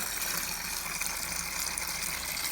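Wort gushes from a partly opened valve on a BrewTools B80pro brewing system while brewing an American wheat beer, a steady, close, aerated rush of flowing liquid without talking.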